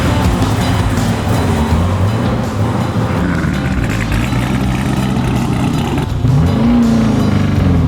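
A 1500 hp twin-turbo 1969 Camaro pro touring build snarls under way, its engine note rising and falling steadily up close, with a climbing rev toward the end.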